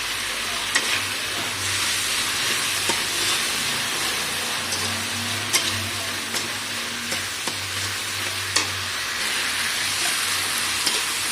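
Red chillies sizzle in a hot pan alongside tomatoes as a vegetable curry with okra cooks, a steady close frying hiss with occasional crackles and stirring scrapes throughout, no voices.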